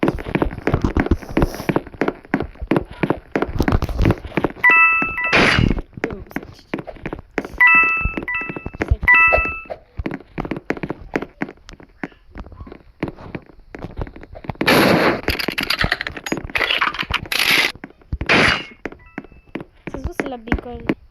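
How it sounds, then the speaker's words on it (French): Nintendo Switch game sounds play in the background of a room: short electronic chimes and bursts, taps and thumps. A young French speaker talks over them almost throughout. "écoutez pas s'il vous plaît le bruit de fond, c'est mon frère, il est en train de jouer à la Switch"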